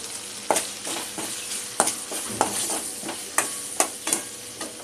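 Ginger garlic paste fries in a hot pan over medium gas, a constant close sizzle broken by repeated sharp scraping strokes of a spoon stirring at an irregular rhythm.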